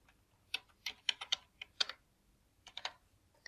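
Keys on a computer keyboard are typed in short, irregular bursts of close, crisp clicks, with a brief pause partway through and no talking.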